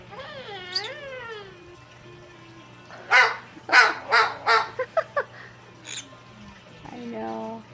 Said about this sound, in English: She pretends to be a bird. Really, she's a big scary dog.